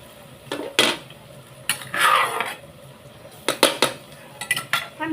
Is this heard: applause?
no